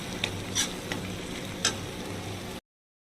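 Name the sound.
spices and paneer masala cooking on low gas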